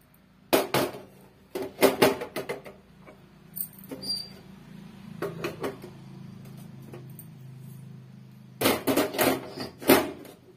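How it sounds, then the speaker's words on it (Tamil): Metal burner parts and a pan stand being refitted onto a cleaned gas stove, sharp clanks and rattles in short clusters at the start and again near the end, with quieter scrapes and a low hum in between. "இப்போ நம்ம பர்னரை ஃபிட் பண்ணிட்டு ஸ்டாண்டர் போட்டு விட்டுக்கலாம்"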